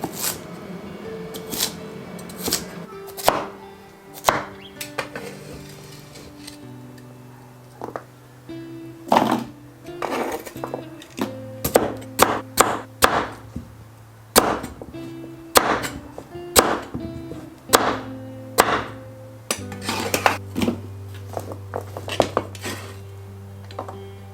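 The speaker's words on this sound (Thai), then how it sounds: "เรามาหั่นเป็นชิ้นเล็กๆนะคะ" Peeled Chinese yam being chopped into small pieces on a cutting board in a home kitchen, sharp knife thunks repeating in quick irregular bursts, close and fairly loud, with no talk.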